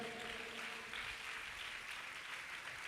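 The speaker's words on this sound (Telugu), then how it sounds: "చప్పట్లు కొట్టండి సంతోషంగా." A church congregation applauds together at a Telugu Christian gathering, a dense, steady wash of clapping held throughout with no break.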